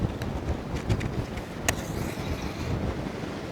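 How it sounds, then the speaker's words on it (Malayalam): Strong wind gusts across an open outdoor cooking spot in a village with rain threatening, a steady broadband rush with buffeting microphone noise and a sharp knock midway, no talking. "നല്ല കാറ്റടിക്കുന്നുണ്ട്."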